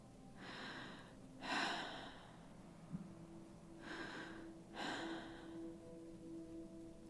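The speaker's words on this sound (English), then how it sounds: "I breathe in and out." Slow, deliberate breathing of a person steadying themselves while holding a rifle snug against the shoulder: two paired in-and-out breaths, soft and close, with a faint steady hum beneath and no talking.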